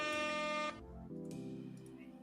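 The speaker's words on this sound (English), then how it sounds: "That deserves some air horns" A blaring horn sounds loudly for under a second, followed by a lower, buzzing horn tone that holds steadily at a quieter level.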